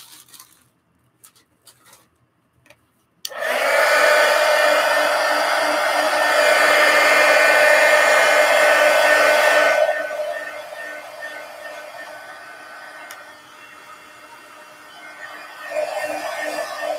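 A hair dryer switches on and blows steadily and loudly at close range to dry mixed media book pages, then drops to a lower, softer setting partway through and rises again near the end.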